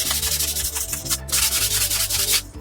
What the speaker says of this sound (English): just a little bit of sandpaper, and that smooths everything up nicely